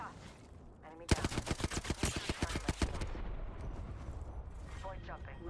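Rapid burst of automatic gunfire in the video game Apex Legends, a dozen or so sharp evenly spaced shots over about two seconds, loud and close, followed by lingering game ambience and a voice talking.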